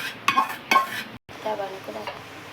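Roasted semolina for upma scraped and scooped out of a pan into a dish, giving a few close scraping, stirring strokes with light metal clinks and a brief pause midway.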